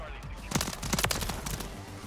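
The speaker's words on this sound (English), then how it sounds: "So they're all kind of shooting at each other right now." Gunfire in Call of Duty Modern Warfare 3 multiplayer, quiet distant bursts of shots and a rattling fusillade as players trade fire, with several sharp nearer cracks spaced through the moment.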